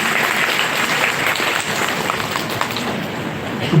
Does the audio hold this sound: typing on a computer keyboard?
no